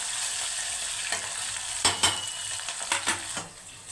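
Curry leaves and coriander sizzling in hot oil in a pan, a steady bright crackle with several sharp bursts and scrapes as the mixture is stirred, close and alone.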